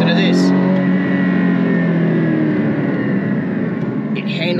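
Someone drives a car they have just collected, its engine giving a loud, continuous droning tone with layered harmonics that holds steady and close throughout.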